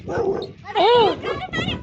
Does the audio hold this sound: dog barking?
yes